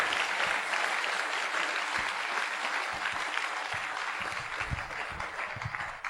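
A church congregation claps steadily and loudly through a sermon, a dense wash of hands with scattered heavier thumps and no pause.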